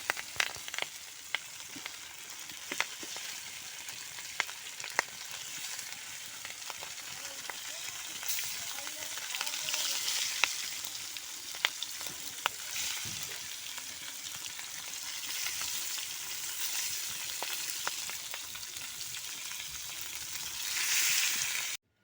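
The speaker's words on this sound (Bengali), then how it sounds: "এখন মাছগুলো ফার্স্ট আমি ভেজে নিচ্ছি" Pieces of fish fry in a pan of oil with a dense, steady sizzle and scattered crackles and spatters, heard close up and alone for a long stretch.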